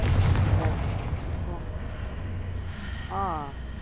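A Confringo fire-blast spell goes off in the video game Hogwarts Legacy: a heavy booming burst opens the clip, then a low rumbling tail fades out. A voice talks briefly near the end.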